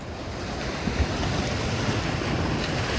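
Atlantic Ocean surf at the tip of Breezy Point beach in Queens rolls in as a steady, loud wash of waves with wind buffeting the microphone, continuous and without voices.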